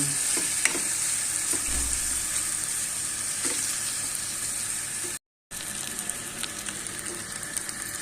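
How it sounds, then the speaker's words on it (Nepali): Ginger, garlic and tomato frying with onions and chillies in a home kitchen pan, a soft, steady sizzle with occasional faint stirring clicks, a brief dropout partway through. "आदु लसुन पनि हालिसक्यो। अब यसलाई हल्का भर्नुपर्छ, रातो रातो हुने गरी, तातो हुने गरी।"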